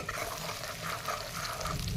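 Pieces of chicken meat sizzle and fry in hot oil in a pan, with a steady, close crackling hiss and faint scraping as the meat is stirred, continuous throughout with no voices.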